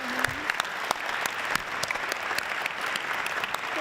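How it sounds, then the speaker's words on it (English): Audience applause at a business conference honoring two teams, a steady dense wash of clapping from a large crowd throughout, with a brief voice near the start. "I'd love to invite the audience to give these two teams a round of applause"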